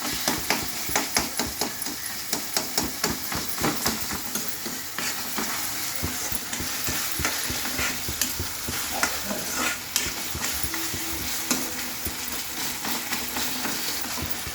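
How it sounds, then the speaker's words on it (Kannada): Ginger garlic paste, tomato and turmeric sautéing in a pan for a bitter gourd palya, with steady frying sizzle and repeated stirring scrapes and taps of a spoon throughout, fairly close and continuous, no talking. "ಇದು 1 ಸ್ಪೂನ್ ಶುಂಠಿ ಬೆಳ್ಳುಳ್ಳಿ ಪೇಸ್ಟು ಬಾಡಿಸ್ಕೋಬೇಕು"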